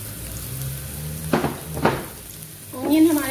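Sliced onions and green chili sizzling in a pan over a medium flame, a loud steady frying hiss with a couple of sharper stirring scrapes, and a voice speaking briefly near the end.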